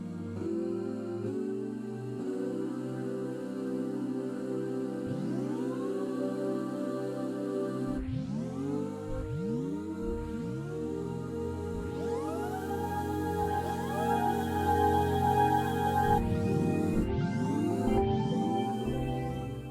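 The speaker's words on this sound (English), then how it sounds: "So that's kind of like a sidechain, a manual sidechain switch" A Nord Stage 4 organ patch plays sustained chords that rhythmically duck and swell as a manual sidechain pump pedal is worked, producing repeated pumping dips and rising pitch sweeps, loud and without talk.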